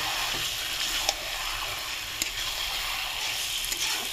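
Duck meat frying in a pan, an even crackling sizzle throughout with a few sharp ticks and pops, fairly quiet and with no voices.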